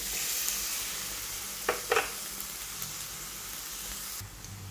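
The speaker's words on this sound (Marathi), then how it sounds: "त्यात कांदा आता आपण तळून घेऊ।" Onion frying in a spoonful of oil in a kadhai, a steady close sizzle and hiss with a couple of brief stirring scrapes and no talk.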